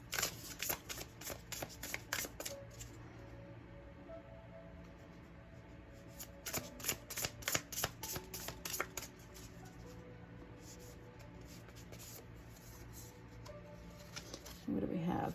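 Tarot cards are shuffled in repeated quick riffling bursts, crisp and close, with quieter pauses between rounds and faint background noise.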